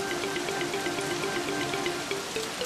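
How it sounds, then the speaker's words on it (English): Heavy rain patters steadily in a children's train cartoon, a dense continuous wash of drops with faint tonal music underneath and no speech. "It's raining heavily outside."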